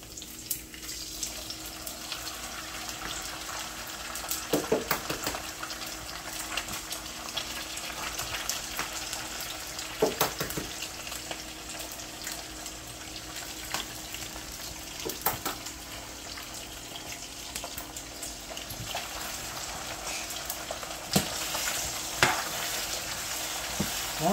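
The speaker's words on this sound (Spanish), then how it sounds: "Entonces ahorita vamos a esperar un ratito nomás a que se fríe un poquito." Venison frying in a pan before eggs go in, a continuous crackling sizzle with scattered spatter pops and occasional utensil clicks, steady and moderately close, with no talk.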